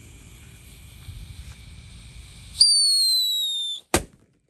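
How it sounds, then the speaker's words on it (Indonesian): At night a Whistling Thunder firecracker is lit: a shrill descending whistle screams for about a second, then a single sharp bang follows, with faint background hiss before. "Selanjutnya kita nyalakan mercon Whistling Thunder."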